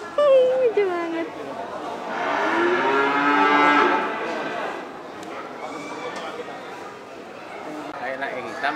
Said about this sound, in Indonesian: Gede banget nih sapi-sapi yang gede-gede kayak gini.